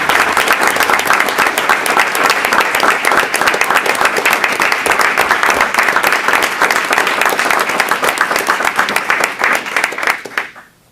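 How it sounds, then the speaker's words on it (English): Sustained audience applause at a high school board meeting, a dense, steady wash of many hands clapping close by for about ten seconds before tapering off quickly at the end. "how about a round of applause for"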